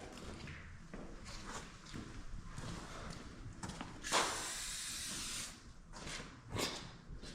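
Bursts of WD-40 spray wax aerosol hiss, one long spray in the middle, among scattered thumps and handling noises.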